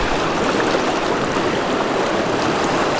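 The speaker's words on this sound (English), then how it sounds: "This water's pretty fast." A fast-flowing creek, heard close as a loud, steady, unbroken rush of water with no voices.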